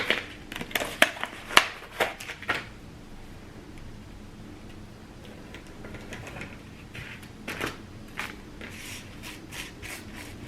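Scissors cutting tulle or decorative mesh into 7 to 8 inch pieces for a wreath, with a quick burst of close snips and rustles at the start, a quieter stretch, then more snipping near the end.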